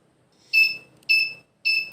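A smart cane for visually impaired users gives its light sensor alert in a dark room: three short, bright electronic beeps at an even pace, clear and close with silence between them.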